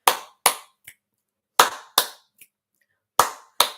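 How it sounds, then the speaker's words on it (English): A single person claps sharply and close up during a live online psychic reading session. The pattern repeats: two loud claps, then a softer one, with brief silences between groups. "come on guys, just clap with me"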